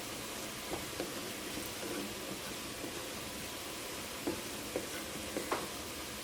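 Sliced onions fry in butter in a pan, a soft continuous sizzle with occasional light clicks and scrapes as they are stirred, fairly quiet and with no talking.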